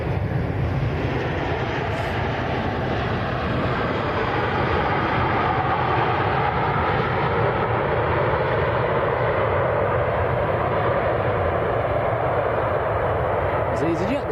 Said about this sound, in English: There's EasyJet that's just arrived from Paris.